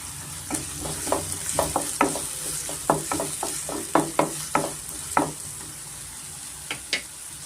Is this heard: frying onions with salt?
yes